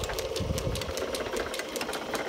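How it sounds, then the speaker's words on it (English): Electric motor driving a new apple mill, running fast with a steady whirring drone and a rapid ticking, slightly knocking mechanical rhythm, close and continuous. "So the motor's pretty fast, 1390 RPM"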